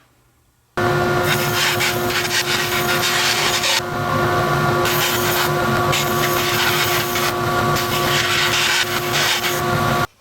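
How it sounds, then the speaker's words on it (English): A bandsaw fitted with a narrow 3/16 or 1/4 inch blade cuts out wooden boards, a loud, continuous rasping whine that runs nearly ten seconds without pause. "I'm going to put in a small blade, probably a 3/16 of an inch blade or a 1/4 inch into the bandsaw, and we're going to cut these out."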